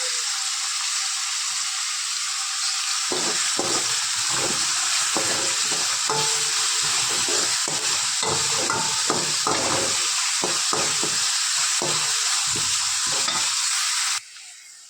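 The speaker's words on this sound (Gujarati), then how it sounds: "ડુંગળી આપણી સરસ સોતરાઈ ગઈ છે" Onions sautéing in a pan for a sandwich filling, a steady close sizzle with scraping stirring strokes running throughout, fading abruptly at the very end.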